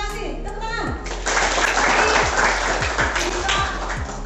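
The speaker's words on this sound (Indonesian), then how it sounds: "Tepuk tangan" A school class claps briefly for a student during a math lesson, a short burst of applause from a small group of children, with a teacher's voice and light tapping beneath.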